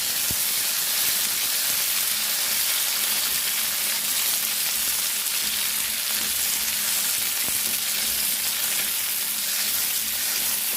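Tomatoes frying in a pan for a drumstick curry give off a steady, even hiss and sizzle that stays constant throughout, with a few faint knocks and no voices.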